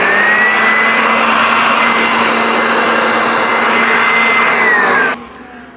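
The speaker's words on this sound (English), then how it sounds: "Switching it between the vacuum and the blower and the mulcher is super easy." A WORX Trivac electric leaf blower runs loud and close with a steady, whining motor roar for about five seconds, then cuts off abruptly and spins down into a faint fading hum.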